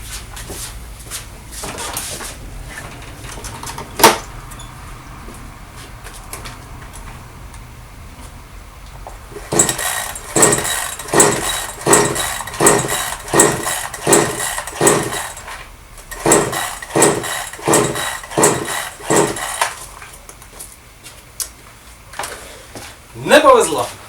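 Brigadir petrol chainsaw with a newly replaced cylinder being pull-started: two runs of rapid, rhythmic cord-pull cranking strokes, close and fairly loud, with the engine failing to catch.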